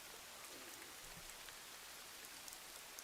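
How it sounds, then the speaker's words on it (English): Rain falls in the survival video game Dawn of Man, a faint, steady patter of drops with no talk over it. "We're surprised it's raining at all."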